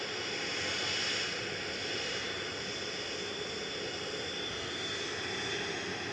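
An airliner departs Manchester Airport, its jet engines a broad, steady distant roar that swells slightly and holds constant, heard alone with no voices.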